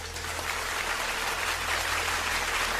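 Faint, steady clapping from a crowd continues for a few seconds at a low level, with no voices over it.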